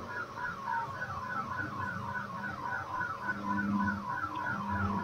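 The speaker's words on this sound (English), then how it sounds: "someone's car alarm is also going off" Someone's car alarm sounds in the background in a repeating, warbling electronic pattern that cycles steadily at moderate volume, heard alone without speech.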